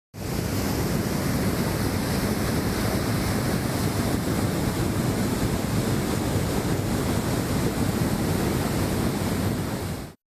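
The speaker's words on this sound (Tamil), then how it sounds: "தண்ணீர் வெளியேற்றப்படுகிறது." Flood water surges out through the 13 sluice gates of a dam after heavy rains, a loud, continuous broadband roar of rushing water that stays steady and unbroken throughout, with no voices.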